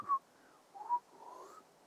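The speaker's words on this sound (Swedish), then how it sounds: "Det låter som att någon visslar" A faint whistle heard at an old road during a ghost hunt, two short clear tones followed by a softer wavering one in an otherwise quiet setting.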